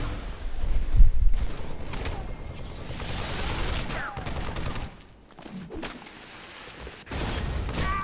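Rapid bursts of weapon fire from the Brute Shot in Halo Infinite, loud and close, with explosive impacts and whooshes, under occasional excited talk.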